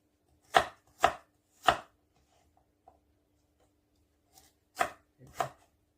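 A knife slicing Solomon's seal root thinly: three crisp, close cuts in quick succession, a quiet pause with tiny ticks, then three more cuts.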